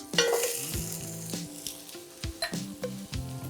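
Onions and carrots sizzling in a pan for osso buco, a loud close crackle with spoon scrapes and knocks against the pan as they are stirred.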